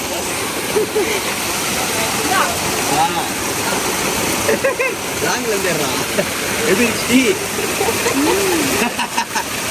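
Continuous rushing water flows loudly and close by, a steady broadband wash with people talking over it.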